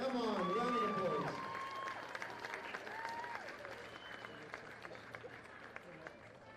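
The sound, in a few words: audience applause for MVP at sports event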